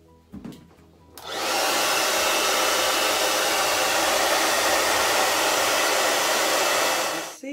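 A hair dryer blows steadily on a lace closure, switching on after a second of quiet and then roaring loud and close at an even pitch for several seconds.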